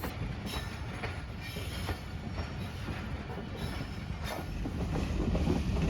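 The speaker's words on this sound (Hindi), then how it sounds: "ड्राइवर साहब मैक्सिमम स्पीड के साथ ट्रेन को भगाते हुए" Pakistan Express passenger train on the Wazirabad–Khanewal branch line running at speed, a steady loud rumble of wheels on rails with rhythmic clatter and occasional squeals, heard close throughout.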